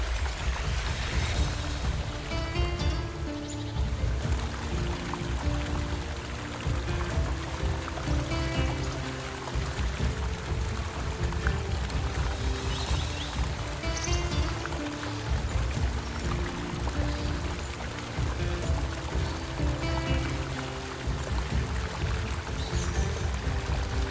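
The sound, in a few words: Yosemite Falls waterfall, United States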